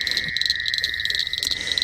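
Several frogs croak close by in a steady, overlapping chorus of rapid trills, loud and continuous, with no talking over them.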